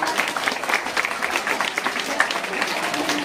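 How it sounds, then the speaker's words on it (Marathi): Audience applause welcoming a guest at a school event in Nagpur, a steady wash of many hands clapping at moderate loudness throughout, with no talk over it. "अशा या तक्षशिलाताई वाघरे यांच्यासाठी एकदा टाळ्या वाजवून स्वागत करा."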